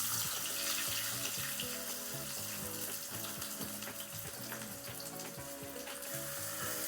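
Fish pieces frying in oil in a pan for Bengali paturi with pumpkin leaves, giving a steady, dense sizzle throughout with no talk.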